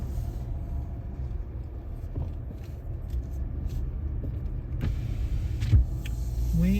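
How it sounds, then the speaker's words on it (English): Car driving with a steady low road rumble and engine hum from inside the cabin, plus a few faint clicks and a brief whine partway through. "We are just going to take a drive."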